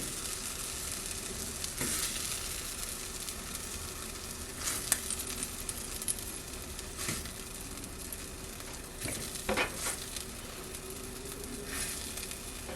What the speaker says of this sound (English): I'm going to heat some of this up in my Dash mini griddle